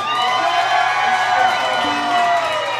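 A comedy-show audience cheers and whoops in a loud, continuous roar, the clapping blended into the crowd noise with no talk over it.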